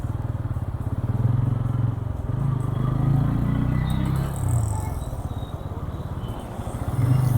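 A motorcycle ride through Chennai toward the highway, on a route from Anna Nagar toward ECR, with a steady close engine rumble and wind noise throughout and a brief dip in the middle.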